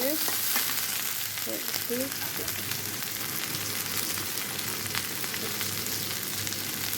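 Chopped onion and green chili sizzling and frying in hot oil in a pan while being stirred, a steady close hiss with light scraping under a brief word of speech.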